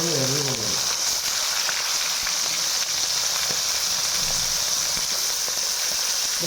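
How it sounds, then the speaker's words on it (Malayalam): Quail pieces frying in hot oil, a dense, constant sizzle and hiss that stays loud and close, with a short murmur of voice at the very start. "ഇപ്പോൾ നമ്മൾ ഇടാൻ പോണ ആദ്യത്തെ കാട"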